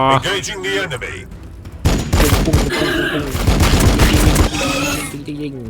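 Bolter gunfire in the Warhammer 40K Battlesector game, Blood Angels campaign, a dense loud fusillade of rapid shots that bursts in after a couple of seconds and keeps going, with someone talking over the start.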